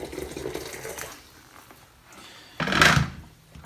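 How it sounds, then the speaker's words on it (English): Boiling water is poured into a glass jar, a short splashing gush near the end after quieter rustling handling noises, fairly close and without talk. "cover it up with some boiling water"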